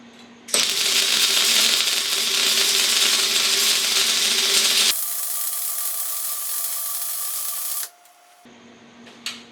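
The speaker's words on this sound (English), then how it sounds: "Let's weld a couple times around this thing." A home welder laying a bead around a metal part gives a loud, steady crackling hiss that runs about seven seconds, its tone shifting partway through, before cutting out to a low hum.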